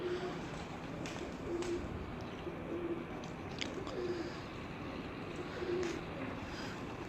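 Pigeons coo on a Faisalabad rooftop at night, soft low coos repeating every second or so under steady background noise, with faint distant sounds around them.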